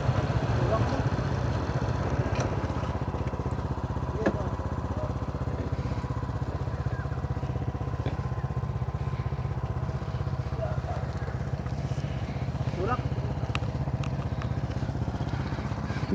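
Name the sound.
motorcycle engine running while being pushed through mud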